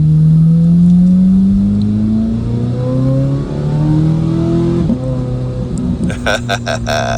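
A 2026 Corvette Z06 3LZ's loud, raspy exhaust rising and falling through revs while driving, steady drone climbing in pitch, with someone talking over it near the end.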